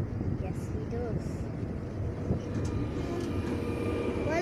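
A train departing a station in Lisbon rumbles at a distance with a low, steady drone, with muffled voices and faint background noise throughout.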